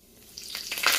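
Tempering spices hit hot oil in a pan for semiya upma, a sharp sizzle swelling quickly from quiet to a bright, crackling hiss.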